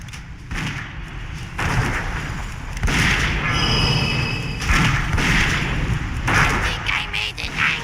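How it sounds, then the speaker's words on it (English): World of Warcraft Icecrown Citadel raid combat, with repeated heavy thumps and booming impacts from an explosion rolling over dense battle noise while a player talks over it. "Okay, there's an explosion."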